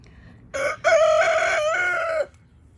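A rooster crows once in a backyard, close and loud: a short opening note, then a long drawn-out cock-a-doodle-doo that holds steady before cutting off, alone over quiet background.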